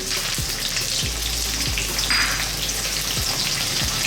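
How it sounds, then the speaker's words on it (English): Curry leaves, rampa, onions and fresh chili fry in a pan for a Sri Lankan potato curry, giving a steady broadband sizzle with a few soft low thumps, close and continuous with no talk. "I'm going to start by dropping in my curry leaves and my rampa. Then our onions and fresh chili."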